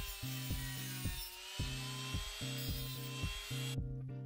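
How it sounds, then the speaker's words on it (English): A pop rivet being ground down for a Matchbox 47C DAF Tipper Container Truck restoration: rhythmic, repeated back-and-forth rasping strokes, about two per second, close and fairly quiet. "I grind down a pop rivet to fit in the divot where the old post had previously been positioned."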